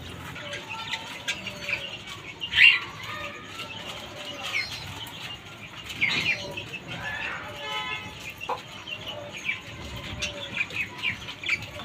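Pigeons, parrots and chickens flapping and pecking at scattered feed in a backyard bird enclosure, with soft wing bursts, chirps and clucks at close range, while someone talks quietly at times.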